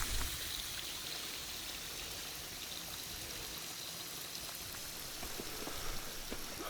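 Rain patters steadily on a forest trail along Cecil Cove, a soft continuous hiss with scattered drop taps, fairly faint and without speech.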